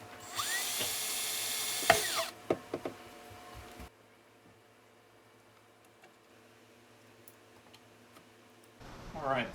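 Small screws are driven to mount speakers in a mechanical record player being converted to electric: a loud whirring burst of about two seconds, a few sharp taps and knocks, then near silence until a brief voice at the end.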